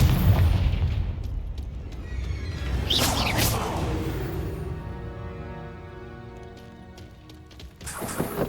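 A blasting spell explosion in Hogwarts Legacy: a deep booming blast with a whooshing burst near the middle, then a long fading rumble and ringing tail.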